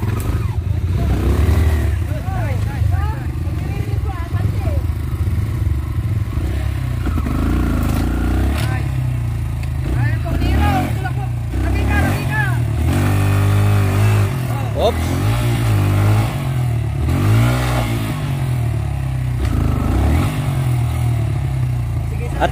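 A motorcycle engine revs and labors while the bike crosses a river, a steady mid-pitched drone with rising and falling throttle that runs the whole stretch, with people talking and shouting directions over it.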